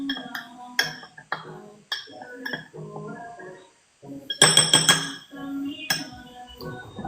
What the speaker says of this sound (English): Alright, so you see it's kind of like almost all melted, so I'm gonna just stir this around.